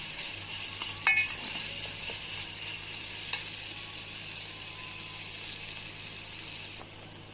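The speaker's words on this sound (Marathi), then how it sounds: "त्यानंतर लाल तिखट, हळद, लाल तिखट टाकून छान मिक्स करून घ्यायचं." Red chili powder and turmeric being stirred into fig vegetable frying in a pan, a steady soft sizzle throughout with a couple of brief spoon clinks near the start, close and alone.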